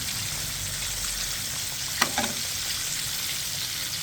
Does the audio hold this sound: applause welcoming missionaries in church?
no